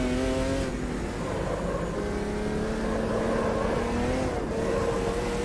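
A Group C race car engine in the racing game Automobilista 2 drones loudly and continuously, its pitch climbing steadily then dropping with gear shifts as the revs rise again.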